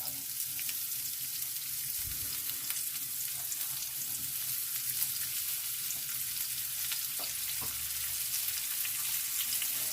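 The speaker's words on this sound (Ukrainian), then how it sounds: "Сюди на цю олійку викладаємо цибульку і розтрибушуємо її." Chopped onion fries in hot oil in a pan, being prepared for a warm eggplant and chicken salad, giving a dense, steady sizzle with occasional soft knocks as it is stirred.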